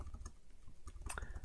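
Typing on a computer keyboard: scattered soft key clicks in short irregular bursts, close up and fairly quiet, with no talking.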